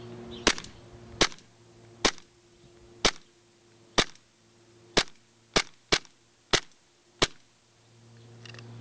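A Tokyo Marui MK23 airsoft pistol fires ten sharp, loud single shots at a steady, slightly uneven pace, each a close crack over a low background hum.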